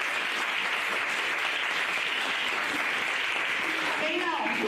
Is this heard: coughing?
no